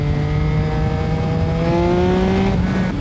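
A Yamaha MT-09 motorcycle engine rises in pitch as it accelerates hard out of corners. The exhaust is loud and close, and the revs climb steadily throughout.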